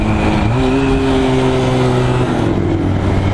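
Small motorcycle close by, its engine note rising and holding as it accelerates, heard loud and alone.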